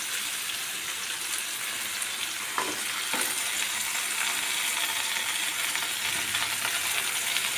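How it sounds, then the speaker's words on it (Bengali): Malabar spinach stalks and mixed vegetables fry in a pan with a steady, dense sizzle and crackle, punctuated by a couple of brief stirring scrapes, close and continuous throughout. "পুঁই শাকের ডাঁটা আর বিভিন্ন সবজি আমি দিয়ে ভেজে নিয়েছি, বেশ কিছুটা ধরে ভেজে নিচ্ছি"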